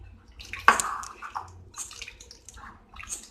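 Marinated fish for tandoori is stirred by hand in a bowl, giving soft, quiet, wet squelching and sloshing sounds in short irregular pulses, with one sharper splat near the start.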